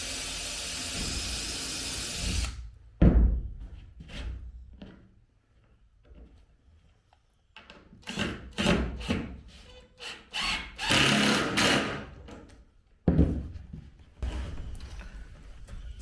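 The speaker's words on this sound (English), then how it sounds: "I have to crack on with putting the rest of these screws in." A power driver runs screws into the after deck of a boat under construction, giving several short bursts of whirring at close range separated by pauses and clunks of handling.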